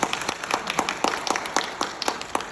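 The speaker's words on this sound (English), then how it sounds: "Let's give it a round of applause for Irene Bedard." Audience applause for a panel guest at a fan convention panel, a small group clapping in a steady, fairly close rhythm of distinct claps.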